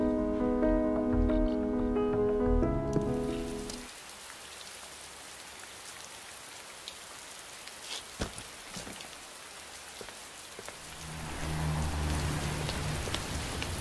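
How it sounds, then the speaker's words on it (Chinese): Heavy rain pours down steadily on surfaces outside a building, a dense continuous hiss with scattered drips, heard after a fading musical passage and with low tones returning near the end. "下这么大雨，进去坐一会儿吧"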